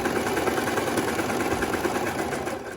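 An overlocker sewing machine runs continuously as it stitches along a fabric edge, a loud, steady mechanical whirr with rapid rhythmic chatter and no speech, easing slightly at the very end.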